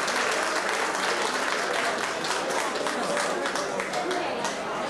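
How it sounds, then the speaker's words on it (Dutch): Audience applauding at a 1989 ceremony marking a chapel's 40th anniversary in Ingber, Gulpen, with steady, full clapping from a crowd lasting the whole stretch and some voices murmuring underneath. "Dat applaus heeft ze groot verdiend."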